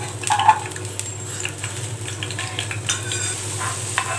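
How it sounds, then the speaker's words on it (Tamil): Garlic cloves deep-frying in oil for a chutney tempering bubble with a low, steady sizzle, with a few light clinks of a utensil against the pan near the start. "இப்போ வந்து கொஞ்சம் டீப் ஃப்ரை மாதிரி பூண்டை வந்து நம்ம ஃப்ரை பண்ணி எடுத்துக்கலாம்"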